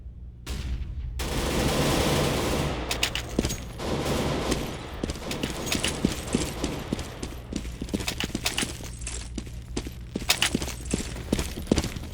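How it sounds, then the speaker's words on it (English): A Counter-Strike match on the Mirage map: a grenade blast gives a dense roar early on, then scattered sharp gunshots and rapid bursts of fire follow at close to middle range for the rest of the time. "Throwing flashbang. Grenade. Throwing a grenade."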